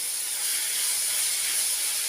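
Tomato chutney ingredients sautéing in a pan, an even, moderately faint sizzling hiss that holds steady for the whole short stretch without any other sounds.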